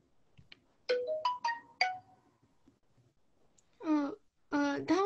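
A phone ringtone plays a short melodic sequence of bright tones, a few rising notes, a pause, then two longer warbling bursts, fairly clear against a quiet room.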